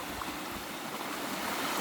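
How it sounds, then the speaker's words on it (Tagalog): A clear stream flows beside a roadside in Umingan, Pangasinan, giving a steady, broadband rush of running water that holds constant and fairly close throughout, with no talk. "sa gilid po may sapa na napakaganda po ng tubig"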